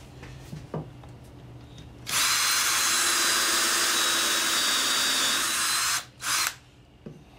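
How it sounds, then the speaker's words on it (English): A power drill bores screw holes into a wooden pedestal table: after quiet, a loud continuous whine runs for about four seconds, stops, then gives one short final burst, with no one speaking. "I've got where I'm going to drill my holes."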